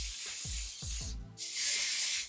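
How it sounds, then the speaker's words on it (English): Even Wonder Lace Bond extra firm adhesive spray hisses onto wig lace in a few close, steady bursts, with light handling knocks and no talk. "I'm going to be using this Even Wonder Lace Bond adhesive spray. It's extra firm, whole, and sensitive, and I'm just going to spray it on the lace."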